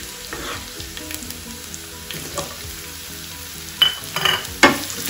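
Garlic frying in oil in a wok for veg hakka noodles, a steady sizzle with a few louder crackling bursts and spatula scrapes near the end, close and clear with no talking.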